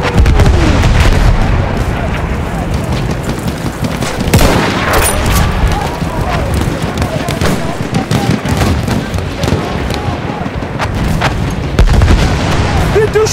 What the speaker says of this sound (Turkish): Bomba fırlatıyorum.